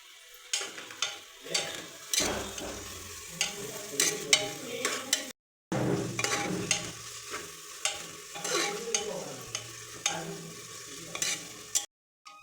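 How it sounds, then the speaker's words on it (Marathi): Tomatoes and green chilies fry and sizzle in a pan with browned onion, a spoon scraping and stirring in steady repeated strokes, close and fairly loud, with two brief silent breaks. "ह्यात आपण आता टोमॅटो आणि मिरची घालूया."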